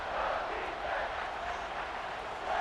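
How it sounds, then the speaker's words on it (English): Steady, broad roar of a stadium crowd cheering in EA Sports College Football 26, continuous and moderately loud throughout with no distinct pauses. "the crowd really getting into it"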